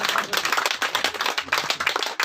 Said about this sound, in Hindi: अब देखो कैसे तालियां बज रही हैं।